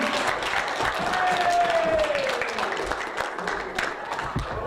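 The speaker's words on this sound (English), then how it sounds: "Can everybody clap, please?" Children clapping together at a school assembly, a steady patter of many small hands that continues evenly, with a faint tonal sweep passing midway.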